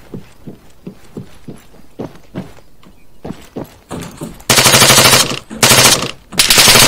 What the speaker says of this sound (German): Du wirst beschossen aus dem Wald heraus.